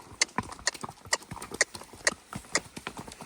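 Pony hooves clip-clop on firm ground at a walk breaking into the odd trot stride, a close, regular series of sharp strikes with faint background noise and no clear talking.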